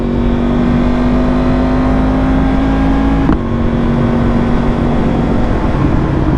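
Yamaha R1M motorcycle, a 2023 model with a flashed ECU and remapped fuel, holding a loud steady engine drone at high speed on a country road with heavy wind rush, the pitch dipping briefly midway then climbing again.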